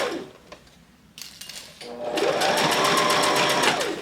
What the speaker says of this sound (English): I'm sewing up the outer part of the blazer right now